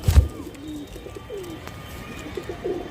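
A pigeon caught in a net coos several times in low, soft, throaty calls spread across a few seconds, with a brief low thump at the start and quiet background noise.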